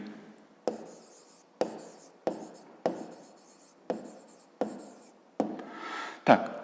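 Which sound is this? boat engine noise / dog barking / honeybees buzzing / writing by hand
writing by hand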